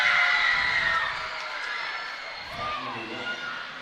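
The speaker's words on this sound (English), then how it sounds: "the young crowd here went nuts as the shot went in" A young crowd cheers and shouts loudly at a women's basketball game, the roar high-pitched and sustained before easing off, with faint talk underneath.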